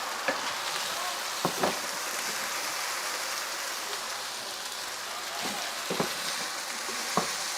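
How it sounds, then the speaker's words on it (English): Steady, close sizzling of chicken frying in a hot pan, with a few sharp pops and crackles scattered through the hiss. "listen to the beautiful sounds of my sizzle textures."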